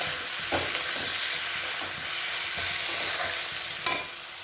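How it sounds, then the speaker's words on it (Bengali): Onions frying in a pan with salt and a little sugar give a steady, close sizzle, broken by a few soft stirring scrapes and one sharper clink near the end, with no talking. "পেঁয়াজগুলো আর একটু লাল লাল করে নিই নুন আর হালকা চিনি দিয়ে দিলাম যাতে পেঁয়াজটা আর একটু নরম হয়ে যায়"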